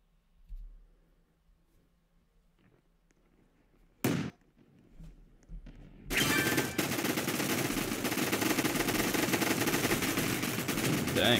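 Gunfire from a Roblox gunfight arena game: after a quiet stretch with a few faint clicks and one sharp burst, dense rapid automatic fire erupts and keeps going loud and continuous to the end.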